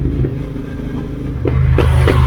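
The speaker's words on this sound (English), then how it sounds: "And the backfires are awesome guys" A Kawasaki Z900 motorcycle rumbles near and loud, with a few sharp exhaust pops and backfires cracking over the engine noise.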